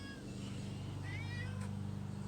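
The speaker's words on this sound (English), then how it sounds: "Little whiny little cat." A cat kept outside meows in a whiny, drawn-out way, a clear nearby cry over a steady low background hum.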